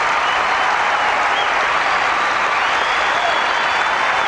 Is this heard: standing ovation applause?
yes